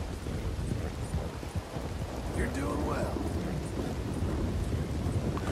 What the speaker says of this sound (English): Whoa, it's raining a lot.